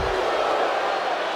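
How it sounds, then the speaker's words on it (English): A wrestling arena crowd reacting with a loud, dense roar of disapproving noise, continuous and wide, with no distinct single voice standing out. "the crowd is not loving that"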